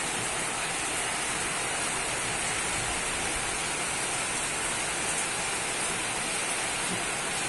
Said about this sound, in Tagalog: Lakas kasi ulan. Hangin pati.